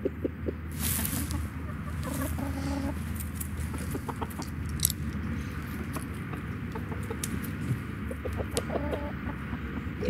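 Chickens cluck on and off over a steady farmyard murmur, with a few sharper calls standing out. The birds sound close by and fairly loud.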